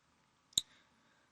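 A single crisp mouse click, close and dry, standing alone against near silence.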